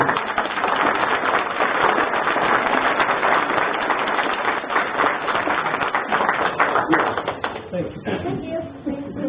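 Guests at a spring dinner applaud donors with a long, dense round of clapping that holds steady and loud before tapering off, with a voice emerging near the end.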